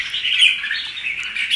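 A caged songbird squawks close by in a shrill, sustained, slightly wavering call that runs continuously without pause.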